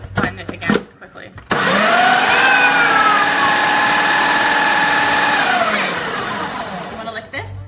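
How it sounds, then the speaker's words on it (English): A kitchen blender whirs steadily at high speed for about five seconds as it mixes a healthy kid-friendly snack mixture, then winds down, with brief talking and handling noises just before it starts. "just put it back on and then just blend it again quickly"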